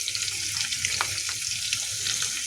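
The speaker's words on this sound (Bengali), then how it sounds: "এগুলো ভেজে নিই আগে" Food frying in hot oil in a pan, a dense, steady crackling sizzle close by with a few faint stirring knocks, and no one speaking.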